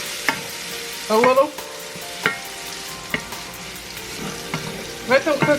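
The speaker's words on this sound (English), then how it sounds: "We're gonna add our bell pepper. I wanna let these vegetables cook down" Celery and bell pepper cooking down together in a pan for shrimp and grits, a steady close sizzle with a few sharp stirring scrapes, and a voice speaking briefly over it.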